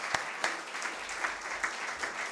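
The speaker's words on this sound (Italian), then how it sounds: "che facciamo un applauso" A small audience at an Italian educators' talk gives faint, brief applause, with a few sharp claps at the start standing out over a soft patter.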